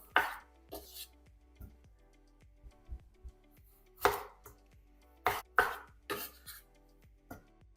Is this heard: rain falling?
no